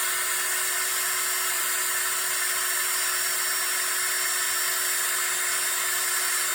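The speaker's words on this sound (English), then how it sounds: "But just turn the drill on, run along that sandpaper." A power drill spins a tire from a 1970 Dodge Coronet Super Bee plastic model kit against coarse sandpaper, giving a steady, high-pitched whine that holds for several seconds with no talking.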